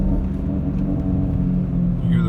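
A warmed-up BMW E39 M5 engine runs above roughly 2,500 RPM with a rattle. A loud, close, continuous low rumble carries a steady droning tone, with a faint rising whir near the end.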